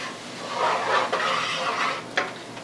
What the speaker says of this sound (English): So just going to stir all this together, make sure everything has flavor on it